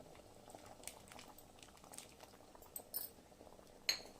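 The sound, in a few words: tamarind water boiling in drumstick sambar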